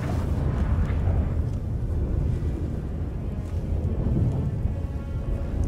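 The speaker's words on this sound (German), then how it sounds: "Ein Unwetter?" A sudden storm in The Witcher 3 roars as a continuous loud, low rumbling wash like heavy wind and distant thunder, steady throughout the scene.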